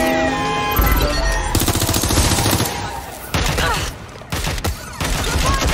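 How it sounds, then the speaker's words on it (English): Dense rapid gunfire crackles through a police chase video game, loud overlapping bursts and volleys with brief gaps, backed by game engine noise. "They're shooting at us!"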